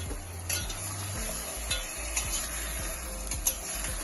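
An onion-chilli curry is stirred in a pot, with a soft sizzle underneath and a spoon scraping and clinking against the metal in an irregular rhythm, close by.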